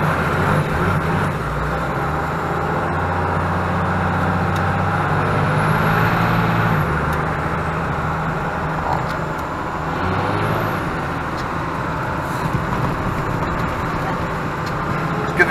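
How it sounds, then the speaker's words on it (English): A 12-valve Cummins diesel truck with an adjusted fuel screw accelerates in a loud, steady drone, its turbo spooling up in rising whistles that peak twice over the long pull. "So actually my turbo should light a lot sooner now."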